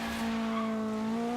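A race car launches in Forza Horizon 3 with a sustained tire squeal over a steady engine tone, brief and fairly faint.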